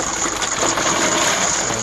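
A net of oysters goes into a cauldron of water heated over a wood fire outdoors, a loud, steady rush and splash of water with no talking.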